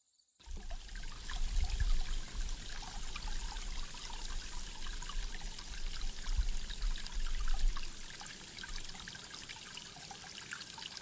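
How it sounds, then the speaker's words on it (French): A river flows steadily nearby, its continuous rushing and trickling water staying fairly even throughout with a few slightly louder surges, and no voices over it. "Alors nous nous sommes posés près d'une rivière"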